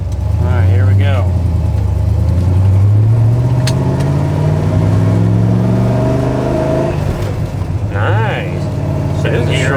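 A 1968 Chevrolet Camaro with a Muncie 4-speed drives along, its engine rumbling loudly and steadily and rising in pitch through several gear changes, with voices speaking over it in the car.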